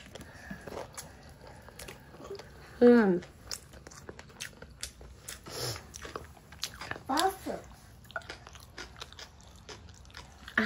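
Close chewing of fried yardlong beans, with soft crunchy bites and one louder crunch, under quiet intermittent talk in a calm room.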